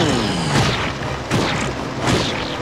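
Three loud cannon booms go off at an even pace in the SpongeBob Atlantis SquarePantis video game, each a heavy blast with a fading tail and nothing else between them.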